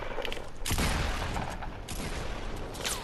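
Gunfire in the video game Fortnite Battle Royale, a dense burst of rapid shots filling the middle of the clip, loud and close, with a second volley near the end.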